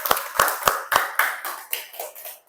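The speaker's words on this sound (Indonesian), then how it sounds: "Ya, benar ya, tepuk tangan." A few people clap in a classroom, about eight sharp, evenly spaced claps, the first four crisp and strong, the rest softer and trailing off, close and alone.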